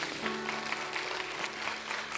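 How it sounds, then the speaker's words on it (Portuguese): A church congregation applauds, a soft, distant wash of many hands clapping, steady and quiet with a low sustained tone underneath. "Você pode aplaudir o Senhor?"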